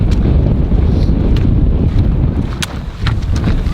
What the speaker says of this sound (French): Ça va, il y a du vent.